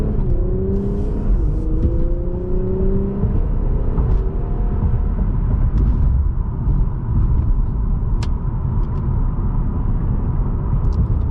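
A 2018 Infiniti Q60 Red Sport 400 in standard drive mode accelerates onto a highway, heard from inside the cabin: the engine tone climbs in a few rising sweeps, then settles into a steady road and wind roar.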